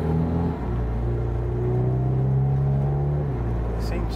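Tuned VW Caddy van with a 386 bhp 2.0 TDI common-rail diesel, DSG gearbox and 4Motion, starting and running, with a loud steady rumbling drone and a shift in pitch partway through.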